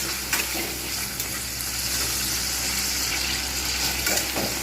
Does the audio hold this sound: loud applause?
no